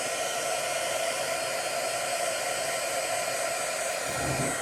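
A heat gun blows hot air onto a flexible WoodUbend moulding while decorating a decoupage candle, producing a constant, loud, even whooshing hum close to the microphone with no talking.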